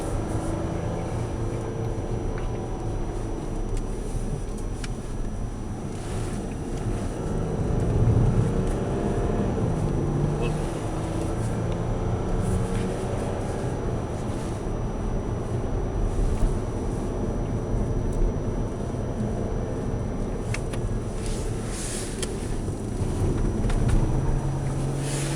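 Porsche Cayenne turbo diesel driving on the Silverstone track, a steady low engine drone with wind rush, continuous and fairly even throughout.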